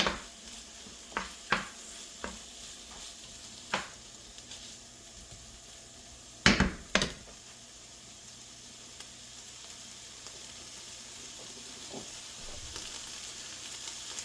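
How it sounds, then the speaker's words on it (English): A meat and vegetable egg scramble sizzles in a pan with a steady hiss, broken by a few sharp scrapes and clanks of stirring, a loud cluster near the middle, heard up close without speech. "Another quick stir."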